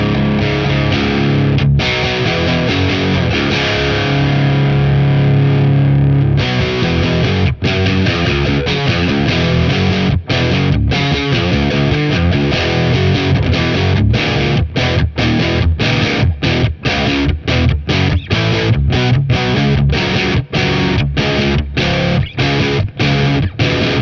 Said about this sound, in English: if I drop the frequency, we can get into those kind of more stonery, less articulate but really fuzzy warm sounds